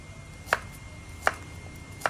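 A knife chops through shallots in three sharp, separate strikes about three-quarters of a second apart, crisp and close against a quiet kitchen background with no talking.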